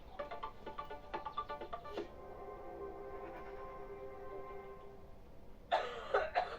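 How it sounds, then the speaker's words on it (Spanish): A person coughs several times in quick rough bursts, followed by a strained, drawn-out throat sound and a final harsh fit of coughing. "¿Tienes tos?"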